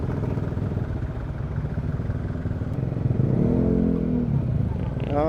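Bajaj Dominar 400 motorcycle engine running, a loud steady idle rumble with mechanical clatter that rises into a brief rev toward the end.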